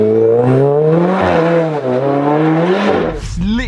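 A Volkswagen Scirocco's engine revs while driving, a loud rising whine that climbs and dips in pitch, with a sharp burst and another climbing whine near the end.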